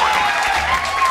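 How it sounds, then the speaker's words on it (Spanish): A short burst of crowd applause and light cheering, loud and bright, opens a children's educational segment on alphabet letters. "¡Un fuerte aplauso!"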